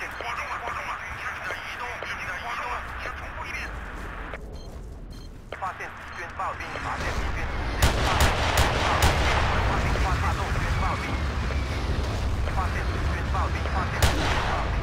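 Sniper and other gunfire in the video game Battlefield 2 multiplayer, loud repeated sharp cracks and booms that grow denser in the second half over constant battle noise, with voices talking over it.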